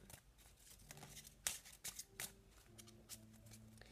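Playing cards shuffled during a magic trick, a quick close riffle and flutter of several short card bursts, fairly quiet, with no talking.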